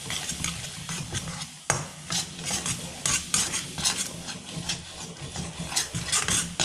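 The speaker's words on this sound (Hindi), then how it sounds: "खोया को हम मसालों के साथ में अच्छे से भून लेंगे।" Khoya being fried with spices in a pan makes a busy sizzle with rhythmic scraping and clattering of the spatula, rising and falling in bursts, close and unaccompanied by speech.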